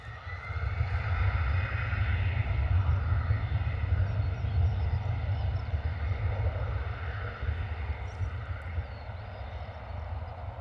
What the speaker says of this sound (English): Lovely departure from our 320 off to Nice.